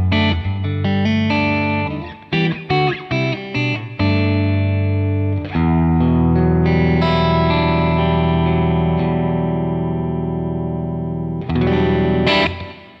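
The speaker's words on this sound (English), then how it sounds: "My clean guitar sound sounds like this." A clean electric guitar plays chords and picked notes that ring out and sustain, lightly colored by chorus and reverb, with no voices.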